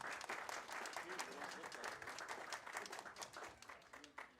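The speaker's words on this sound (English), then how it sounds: "So let's give ourselves a round of applause." Crowd applause at an outdoor summer symphony orchestra concert in West Chester, dense steady clapping from a large audience, fairly distant and even, continuing throughout without a break.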